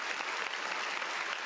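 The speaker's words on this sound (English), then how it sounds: "Let's give you a round of applause for that." A studio audience gives a short round of even, steady clapping that stays constant throughout, without cheering or voices.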